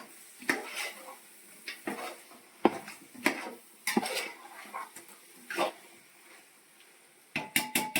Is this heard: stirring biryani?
yes